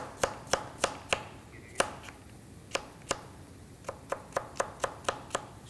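A knife chops carrots into thin slices on a cutting board, about fifteen sharp, close knocks coming in uneven bursts with short pauses between them, with no talking.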